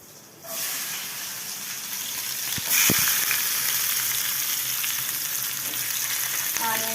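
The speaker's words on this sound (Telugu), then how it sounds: "ఇప్పుడైతే ఆనియన్స్ వేస్తున్నాను" Onions hit hot oil in a pan for chicken keema, a sudden loud sizzle bursting in after a quiet start, then a continuous close frying hiss with clinks and scraping of stirring.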